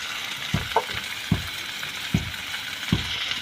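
Tomato, ginger-garlic paste and meat masala sauté in a pan with a steady hiss, and four or five evenly spaced dull knocks of a spoon stirring the thick mixture, close by, without talking.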